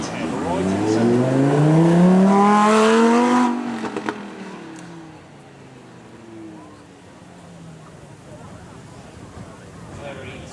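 A Lamborghini's 5.2-litre V10 screams past on a race track at a supercar weekend event, climbing through the revs before fading into the distance, with a commentator talking over it.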